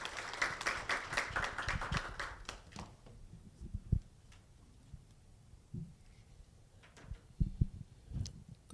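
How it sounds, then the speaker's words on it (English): Audience applause at the podium of an annual Extractive Industries workshop: dense, steady clapping for about three seconds, then a few scattered claps and thumps in a quieter room. "A big round of applause,"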